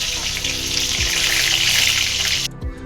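Steady loud sizzling of food frying in a pan in a makeshift, broken-down kitchen without gas, continuous and close, briefly cutting out near the end.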